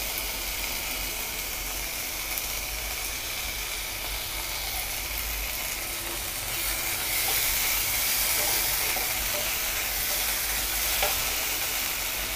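Onions sautéing in a pan with ginger garlic paste for egg masala gravy give a steady, close sizzle and hiss, with stirring scrapes throughout. The sound grows a little louder midway, and no one speaks.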